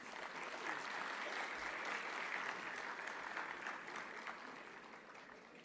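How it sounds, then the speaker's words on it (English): Sustained applause from a university ceremony audience, a steady wash of many hands clapping at a distance, fading slightly toward the end. "with a round of applause."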